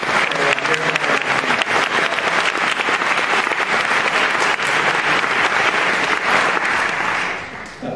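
Loud, full applause from an evening talk audience at the Glazer Center, a thick continuous crackle of many clapping hands that stays strong, then thins and fades in the final moment.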